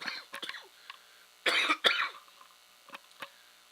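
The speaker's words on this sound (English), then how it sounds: "I'm going to cough here." A couple of close coughs in the middle, with quieter clicks and breathy sounds before and after.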